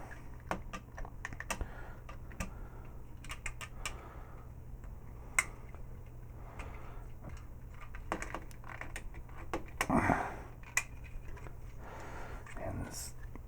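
Small plastic panels on a Fans Toys Tesla (Perceptor) Transformers figure are flipped and folded, giving a string of faint close clicks and ticks over a low steady hum, with speech in between.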